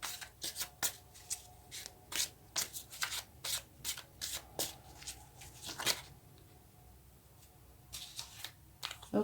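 A deck of tarot cards is shuffled up close in a quiet room, giving a run of quick crisp riffling flutters in uneven bursts before a short pause and a few more shuffles.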